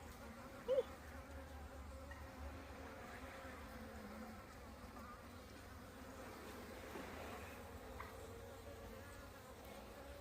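Honeybees hum faintly and steadily during a winter hive inspection, a low continuous buzz with one brief louder blip near the start, quiet and without talk.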